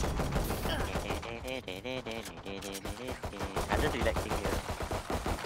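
Rapid gunfire bursts in a shooter video game, sharp cracks mixed with game effects and music, with a player talking over the action throughout.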